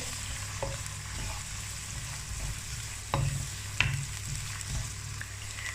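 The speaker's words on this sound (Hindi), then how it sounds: "अब डालूंगी 1 बारीक कटा हुआ प्याज को भी हल्का सा रोस्ट करेंगे" A steady oil sizzle from finely chopped onion frying in a pan, with a few soft clinks as a utensil stirs now and then.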